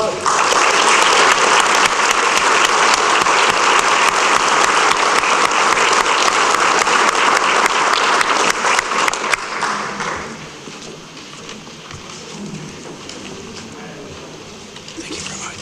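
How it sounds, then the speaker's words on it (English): An awards-ceremony audience at a chamber of commerce event applauds the 2012 Beautification Award winner, Urban Enterprise Association, with loud, dense clapping that fills the room for about ten seconds before quickly dying away to quiet murmuring. "Let's give an applause to the 2012 Beautification Award winner, Urban Enterprise Association"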